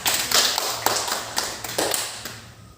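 A classroom of students claps briefly in a micro-teaching lesson, a handful of separate sharp bursts of clapping at close range with short gaps between them.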